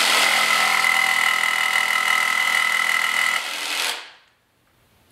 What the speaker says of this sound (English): So what I'm going to do is take my jigsaw. I'm just going to angle it a little bit.